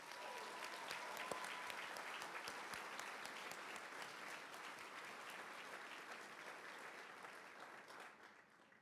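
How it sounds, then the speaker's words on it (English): A banquet audience gives sustained applause for Army Sports Hall of Fame inductees, a dense wash of many hands clapping at moderate distance that slowly tapers toward the end. "Ladies and gentlemen, how about a round of applause for this year's class of inductees?"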